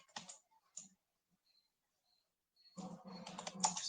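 Typing on a computer keyboard, a short burst of clicky keystrokes, then a pause, then a denser run of close, quiet key taps.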